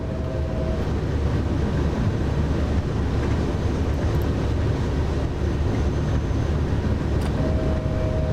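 An electric train on the Rhein-Ruhr main line near Essen in the video game Train Sim World runs steadily as it begins slowing for a stop, a constant loud rumble with brief high whines at the start and end and no talking.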